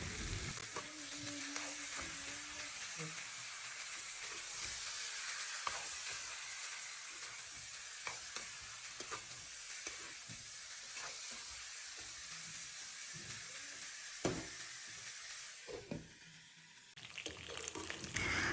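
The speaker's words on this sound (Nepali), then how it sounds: "अब यो बुङ्गुरको मासुलाई चाहिँ मैले एकदमै रातो हुने गरेर भुट्छु" Pork frying hot in a pan until deep red, a steady loud sizzle with occasional stirring clicks and scrapes close by, briefly dropping before resuming.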